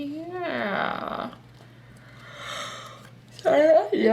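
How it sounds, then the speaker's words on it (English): A person yawning, a drawn-out breathy yawn with a rising then falling voiced tone, followed by a quiet pause and a short vocal sigh at the end. "Sorry, I'm yawning."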